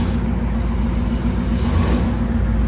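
A 1946 Chrysler Windsor V8 fitted with headers and true dual exhaust runs loud and steady close by, a deep continuous rumble without pauses.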